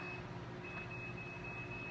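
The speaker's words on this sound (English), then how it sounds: "that beeping is my laundry." A laundry machine's faint electronic beep repeats in short high tones over a low background hum, distant and quiet, with no voices.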